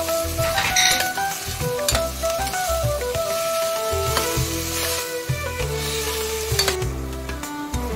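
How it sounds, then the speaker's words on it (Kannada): Peas and tomato frying in a pan for a South Indian tomato bath, a steady loud sizzle with repeated scraping stirs and a tonal ringing hum running throughout, no talking. "ಇದು ಬಟಾಣಿನೂ ಹಾಕ್ತಾ ಇದ್ದೀವಿ."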